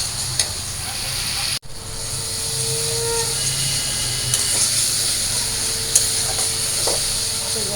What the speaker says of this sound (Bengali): মশলাগুলো কষে নিই।